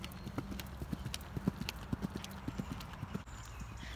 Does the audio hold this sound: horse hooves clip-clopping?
yes